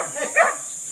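A dog gives a single short, whiny yelp, close and fairly loud, with faint background noise around it.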